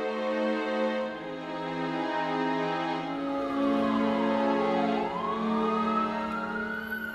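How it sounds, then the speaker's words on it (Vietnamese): An ambulance siren wails steadily and loudly, its pitch sweeping down and back up in the middle, with no voices. "Những tiếng còi báo từ chiếc xe cứu thương làm kinh động cả góc làng Phúc Lượng"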